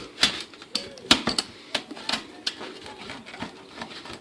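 A knife crunches into a crispy traditional-crust frozen cheese pizza, a rapid series of close, dry crackles and taps.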